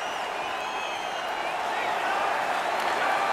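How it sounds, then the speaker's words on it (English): An arena crowd in NHL 21 cheers and claps in a steady, loud roar that swells slightly over a few seconds, with a commentator's voice mixed in. "this crowd a little more amped up after what we just witnessed moments ago."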